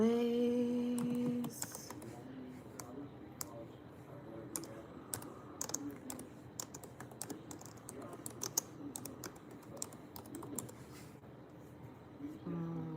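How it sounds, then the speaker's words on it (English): Rapid, irregular clicking of keys on a computer keyboard, close and crisp, starting after a brief tonal sound and continuing in bursts for about ten seconds. "I always gotta type in here."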